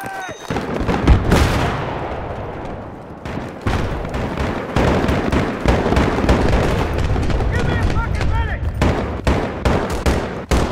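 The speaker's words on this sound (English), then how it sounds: "Grenade!" In Battlefield 3 multiplayer on Grand Bazaar, a grenade blast hits hard and close amid a dense battle of repeated gunfire bursts and further explosions. Voices call out over the fighting.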